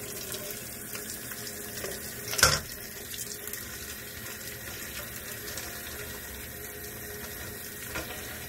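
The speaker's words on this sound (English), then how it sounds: "Let's see if I run the water harder." Tap water runs hard and steady into a bath holding a bubble bar, a continuous rushing gush with one brief clunk early on. Nobody speaks.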